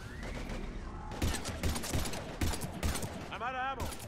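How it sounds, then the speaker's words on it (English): Bursts of gunfire crackle in the video game Mass Effect 3 Legendary Edition during a heavy firefight, with repeated loud shots, electronic game effects and voices talking over the action. "We're taking heavy fire."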